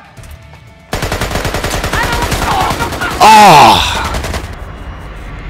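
Rapid automatic hip-fire gunfire in the stealth action game Splinter Cell: Conviction, a dense stream of shots running under a voice and exclamations.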